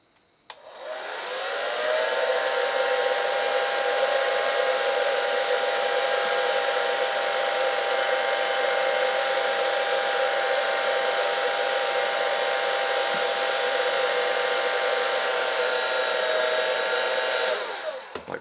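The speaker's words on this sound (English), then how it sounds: "use this hairdryer right here and heat the piece up" A hairdryer heating a resin miniature part switches on and roars at a steady, loud, even pitch with a constant whine, running alone for about fifteen seconds before cutting off.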